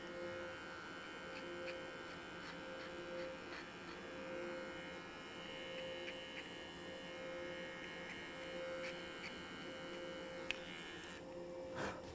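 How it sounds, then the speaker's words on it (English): An electric hair clipper runs steadily while skimming down hair around the back perimeter of a haircut, a continuous close buzzing drone with a faint mains-like hum, alone with no talking. "Now I'm going to help myself with the clipper to skim down this hair"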